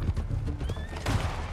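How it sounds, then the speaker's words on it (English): Horse in the Red Dead Redemption 2 video game giving a high neigh while its hooves clip-clop steadily underneath, close and fairly loud over a busy game soundscape. "Horse."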